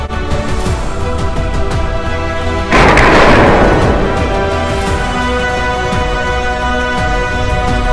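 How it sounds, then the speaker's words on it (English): One abrupt loud impact as a homemade cake is shot, likely with an arrow, a sudden thump that cuts through steady background noise and fades over about a second. "All right, we're going to shoot the cake."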